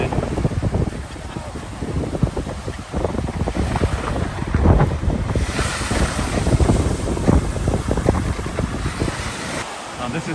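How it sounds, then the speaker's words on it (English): Ocean surf at Doheny beach, a continuous rushing wash of small smooth waves heavily mixed with gusting wind buffeting the microphone, with speech in the background. "This is really good surf to learn on."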